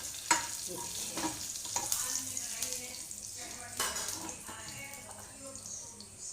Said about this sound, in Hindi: थोड़ा सा जीरा तड़कने लगे, इसके बाद देखिए इसमें हम ये करी पत्ता डाल देते हैं